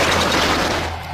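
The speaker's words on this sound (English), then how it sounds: "almost at the same time you can hear automatic gunfire" A sustained burst of automatic gunfire rattles loud and dense with no break, during a wartime attack at a station in Northern Ireland.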